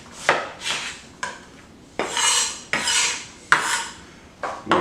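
A knife slices through an onion on a cutting board, several crisp cuts, each a sharp knock of the blade followed by a short rasping drag through the layers, close and fairly loud with brief pauses between strokes.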